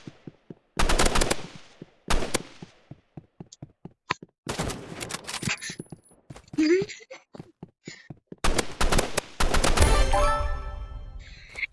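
Rapid bursts of automatic assault rifle fire from a video game, coming in several loud volleys separated by brief pauses, with a few scattered single shots between them.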